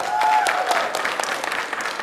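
An audience at a public assembly meeting claps in a short scattered burst of applause, moderately loud in a large room.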